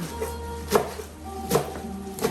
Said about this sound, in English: So I'm just going to take my big knife and I'm gonna start chopping.